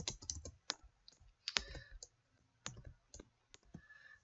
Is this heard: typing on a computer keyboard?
yes